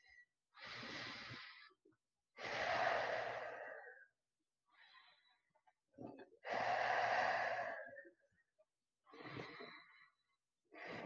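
Deep audible breaths during a yoga stretch, long slow inhales and exhales in a quiet room, about five close breaths with pauses between.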